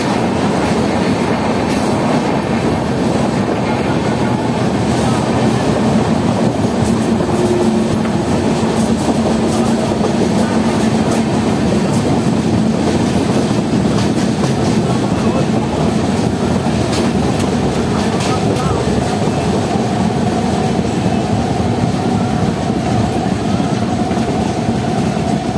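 The Darbhanga Maithili Express rolls along the rails past Dakshineswar station, a loud, continuous onboard rumble with rhythmic clatter of wheels over track joints, steady and unbroken with no talking.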